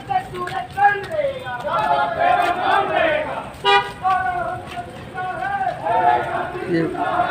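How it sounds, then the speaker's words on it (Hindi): A crowd on a Karni Sena justice march chants slogans as a vehicle convoy moves along, voices rising and falling in loud, overlapping waves with car horns tooting in between. "ये नारे लगाते हुए आ रहे हैं"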